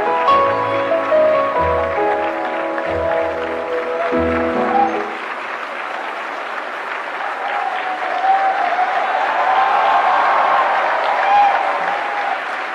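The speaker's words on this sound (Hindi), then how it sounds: "जोरदार तालियों से स्वागत करिए" Loud, sustained audience applause at a national film award ceremony, rising as music fades out, with an announcer's voice heard briefly at the start over a musical fanfare.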